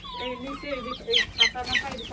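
Desi hens on a small chicken farm cluck in short repeated calls, fairly close, with a few sharper squawks toward the end.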